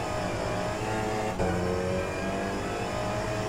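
Race car engine in the racing sim rFactor2, a loud continuous droning roar with a brief dip and pitch shift partway through as it downshifts, close and steady with no talk.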